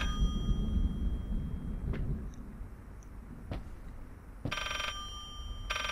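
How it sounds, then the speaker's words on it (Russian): A mobile phone rings somewhere in a house in the horror game Layers of Fear, two short bursts of bright, buzzy ringing heard faintly after scattered clicks and a low ambient rumble. "Мобильник где-то звонит."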